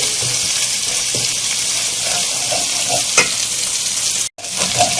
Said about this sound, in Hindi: एक से 2 मिनट तक मैं इसको इसके साथ भूनूंगी, ताकि लहसुन अदरक की कोई कच्ची स्मेल इसमें ना रहे।